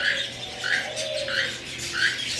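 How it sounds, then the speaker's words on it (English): Mosaic canaries in a bird store give short, bright chirps that repeat at a steady, evenly spaced rhythm, fairly close and moderately loud over a soft background hum. "Some more the mosaic canaries."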